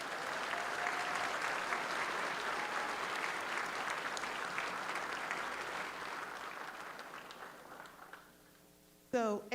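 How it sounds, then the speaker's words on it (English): Applause from an audience at a law school graduation ceremony, sustained and dense for most of the stretch, then fading before a brief louder burst at the very end. "Can we give him another round of applause?"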